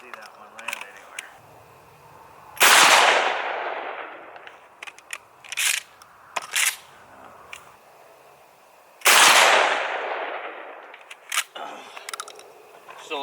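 Two loud, sharp shotgun slug blasts, fired at a concrete block wall 300 yards away, each booming and decaying over several seconds, with quieter talk and small knocks between them.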